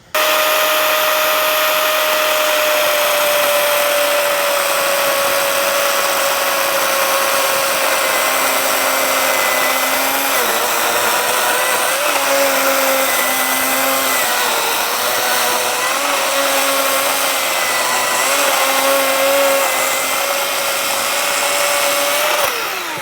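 Power saw trimming the top of a fence post (tangent post), a steady loud high whine running continuously with slight pitch dips as the blade bites into the cut, no talk.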